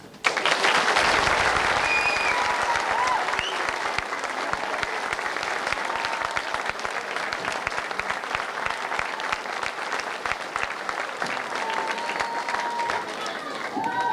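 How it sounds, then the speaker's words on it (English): Sustained applause from a large audience, loud at first and then continuing steadily, with faint voices mixed in. "Come on, give them another big bowl of applause."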